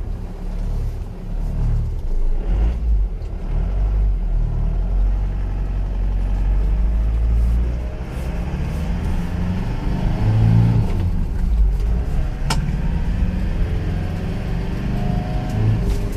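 An Isuzu Panther diesel engine with low compression, which dies on its own after revving, cranks for a while before starting and then rumbles and revs in a low, heavy drone throughout, close and fairly loud.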